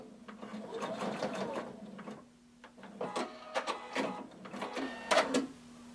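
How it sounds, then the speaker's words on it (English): A sewing machine hums and rattles in a fairly quiet room as a hooded tunic is stitched, pausing briefly before resuming with short choppy bursts for backstitching. "Going to sew until you reach your stitching line, and then backstitch."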